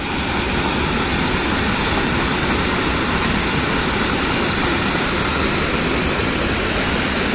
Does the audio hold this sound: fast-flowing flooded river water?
yes